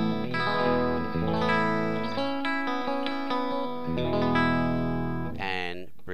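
Fernandez 70s Strat copy in the second pickup position played clean through a Ceriatone JTM 45 amp, a run of sustained chords and picked notes with chorus-like shimmer and reverb, steady and fairly loud with no talking.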